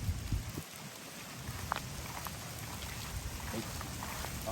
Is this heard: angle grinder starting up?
no